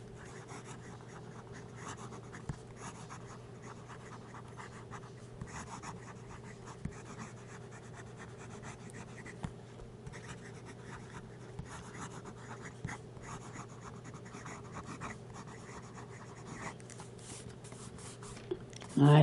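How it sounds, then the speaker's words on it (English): Fast writing with a wet-nibbed Delta Dolcevita fountain pen, a soft continuous scratching of nib on paper with quick strokes and small taps, close up and fairly quiet against a low steady hum. "Nice, wet nib on it."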